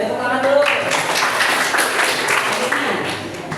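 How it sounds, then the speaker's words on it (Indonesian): A class of students clapping together during an Islamic studies lesson, a dense, continuous patter of hands lasting a few seconds, with a voice speaking over the applause. "Oke, tepuk tangan dulu."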